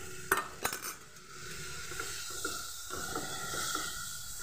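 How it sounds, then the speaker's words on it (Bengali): Water poured from a rinsed spice bowl into a hot cooking pan for an okra masala, with a couple of clanks of the bowl followed by steady hissing and sizzling. "মশলার বাটিটা ধুয়ে দিয়ে দেব।"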